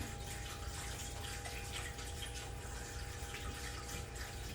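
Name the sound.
baptismal water feature running as a gushing spring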